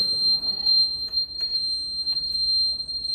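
An e-bike indicator buzzer gives a steady high-pitched electronic buzz continuously behind faint clicking and low background hum, with no talking.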